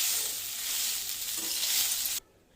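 Cooked rice stirred into a pan of coconut rice mixture with the gas switched off, giving a soft, steady scraping and sizzling rustle that stops abruptly near the end.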